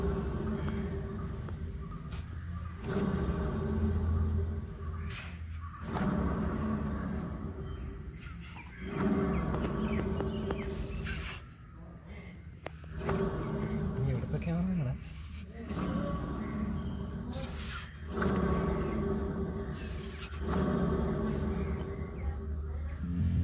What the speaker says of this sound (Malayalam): ഈ വാഹനത്തിൻ്റെ പിറകിലത്തെ ലെഫ്റ്റ് ടയറിൻ്റെ ബെയറിങ് കംപ്ലൈൻ്റ് ആയതുകൊണ്ടാണ് ഇങ്ങനെ സംഭവിക്കുന്നത്